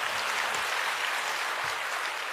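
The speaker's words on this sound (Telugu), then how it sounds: "చప్పట్లు కొట్టచ్చు పర్లేదు." Sustained applause from an audience at a Janasena party committee meeting, dense, steady clapping heard from the hall, filling the whole moment without talk.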